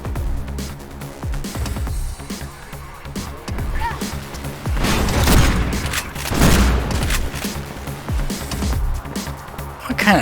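Shotgun blasts in the first-person video game Mirror's Edge fire repeatedly alongside dense in-game gunfire and booms, loud and layered, with a person talking intermittently.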